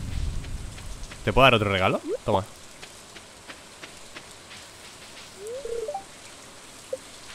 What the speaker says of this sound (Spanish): Una lluvia cálida es una forma agradable de limpiarse